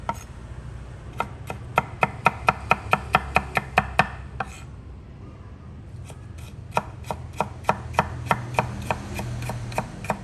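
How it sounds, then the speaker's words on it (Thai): A knife dices tomatoes on a cutting board for avocado salsa, sharp rapid chops in a quick regular rhythm, pausing briefly midway before resuming at the same pace. "เราจะหั่นไปเลย"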